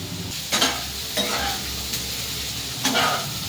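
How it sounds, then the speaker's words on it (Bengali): Potatoes fry with spices in a pan: a constant close sizzle with three louder bursts of stirring and scraping, and no voices. "ও, মশলা দিয়ে আলু ভাজা হচ্ছে।"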